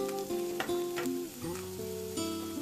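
Urad dal frying in coconut oil for Udupi-style bendekayi kairasa, a steady close sizzle with bright crackles and occasional stirring scrapes, no voices.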